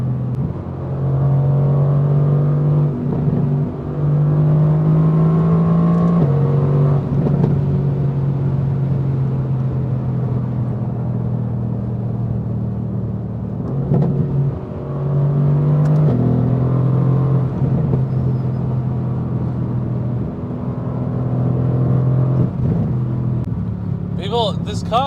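A 585 hp Mercedes-AMG GT R pulling hard on the Autobahn, its engine note droning loud and close from inside the cabin, rising and dropping through gear changes, with someone talking over it.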